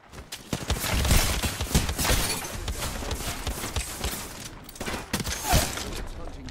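Gunfire in the Apex Legends battle royale game, a fast irregular string of sharp shots and bursts, some close and punchy, others lighter, continuing steadily throughout.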